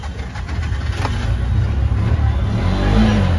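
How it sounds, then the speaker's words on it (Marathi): A Royal Enfield Bullet motorcycle engine runs nearby with a deep, steady, thumping rumble that grows slightly louder toward the end. "फायरिंग सुना फायरिंग बुलेट का"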